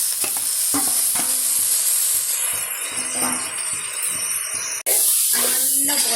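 Green chillies and garlic sauté in a hot pan, sizzling loudly and continuously as they are stirred and scraped with a spoon, with a voice speaking intermittently over the frying.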